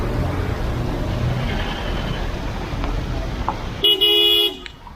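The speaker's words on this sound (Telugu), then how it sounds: "చూడండి చాలా దూరం ట్రాఫిక్ ఆగిపోయింది." Stalled road traffic on a mountain route toward Gaurikund idles with a steady rumble, then a loud, close car horn blares for about half a second near the end.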